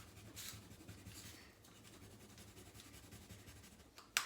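Crayon or marker scribbling on paper during a children's class, coloring a yellow-petalled, brown-centred flower; steady soft rubbing strokes, close and fairly faint, with a sharper tap near the end and no talk.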